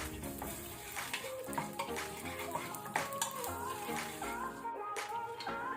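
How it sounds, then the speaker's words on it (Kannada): Dry red chillies, hing and turmeric frying in a pan over low flame for pepper rasam, with a steady soft sizzle, scraping stirs and light clinks of a utensil against metal, with background music. "ಇದನ್ನು ನಾವೀಗ ಸ್ವಲ್ಪ ಫ್ರೈ ಮಾಡ್ಕೊಳ್ಳುವ"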